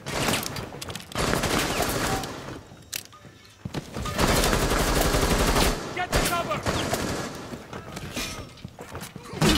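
Video game gunfire rattles out in loud, dense bursts of rapid shots, with brief lulls between volleys and a louder burst at the very end.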